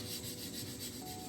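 A light, steady rubbing on the chrome surface of a BMW 750iL as it is cleaned, a soft continuous scrubbing rasp up close for just over a second, with no voices.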